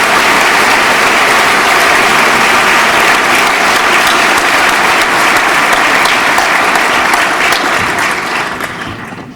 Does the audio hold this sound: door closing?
no